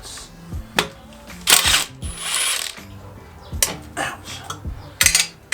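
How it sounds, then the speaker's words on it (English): A wrench ratchets in short bursts of loud, close clicks and metallic clanks while bolts and nuts come off a Miata engine during teardown, with pauses between strokes. "we have to use a wrench for some of these bolts or nuts"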